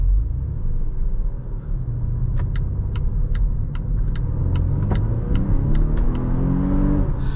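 A Volvo V60 T8 Polestar Engineered plug-in hybrid wagon accelerates, a loud steady engine rumble from inside the cabin with a rising drone toward the end and faint clicks scattered over it.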